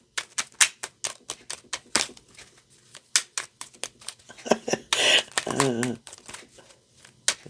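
Tarot cards are shuffled by hand in a quick series of crisp clicks and riffles, with a denser flurry near the end, while someone talks intermittently.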